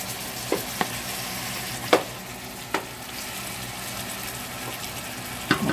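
Tomato and onion frying in a pan for a seven-seas seafood soup base, a steady low sizzle broken by a few sharp spoon taps and stirring scrapes, no talk.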